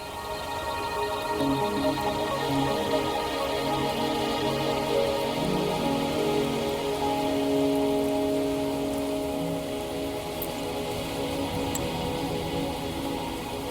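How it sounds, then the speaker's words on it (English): Rain falls steadily in the Wuthering Waves video game, a continuous hiss of drops on surfaces over low, layered ambient music tones, with no break throughout. "Are you trapped here by the rain?"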